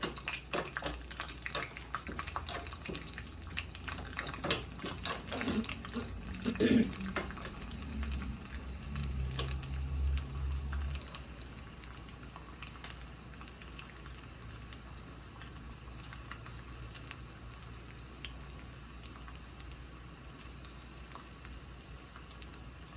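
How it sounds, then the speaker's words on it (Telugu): Chopped garlic frying in oil for a broccoli dal, a soft crackling sizzle with a few louder pops early on, settling into a quieter steady hiss. "గార్లిక్ వేసేసి అది కొంచెం వేగనియాల"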